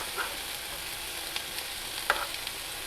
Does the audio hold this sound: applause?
no